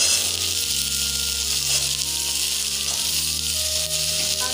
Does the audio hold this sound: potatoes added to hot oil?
yes